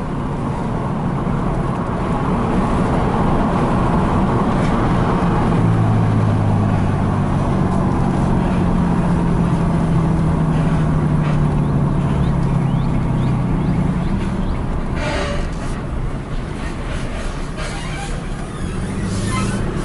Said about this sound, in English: Listen how it down shifts.